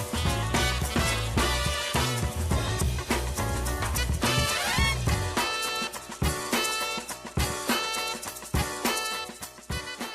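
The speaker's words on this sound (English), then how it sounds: "the horn in this song, it's from an old song and it sounds like this" An old song's horn sample plays continuously with dense, punchy brass stabs over a rhythmic backing, steady and loud throughout, with no talking.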